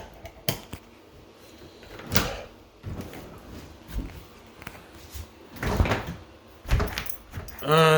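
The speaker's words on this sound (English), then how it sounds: "All right, let's check this door." A faulty refrigerator door that won't seal is opened and shut several times, giving a series of thuds and rattling knocks with brief pauses between them.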